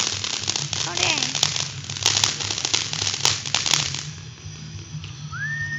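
Fireworks bursting and crackling outdoors, with dense sharp pops and a hissing crackle that fades after about four seconds, leaving a rising whistle near the end; voices are present beneath the noise.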